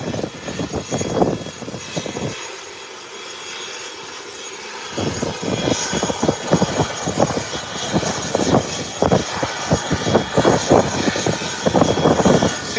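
Airplane in a flight simulator game taxiing and lining up for the runway, a steady engine drone running throughout, dipping briefly before swelling back with dense rumbling texture.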